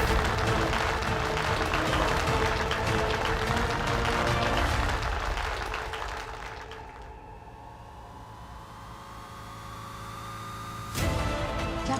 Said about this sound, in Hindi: जोरदार तालियों से प्रोत्साहन कीजिए गुड्डन अक्षत जिंदल का।